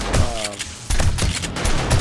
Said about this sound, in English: those are shotguns